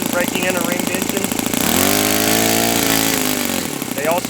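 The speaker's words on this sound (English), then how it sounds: "going from a very blubbery rich to a leaner setting for a couple of seconds each way is the way they recommend braking in a ringed engine" A small OS FS95V four-stroke model engine with rings, being broken in, runs loudly with a buzzing, harmonic-rich drone. Its pitch rises and steadies midway, then falls back as the mixture switches between rich and lean.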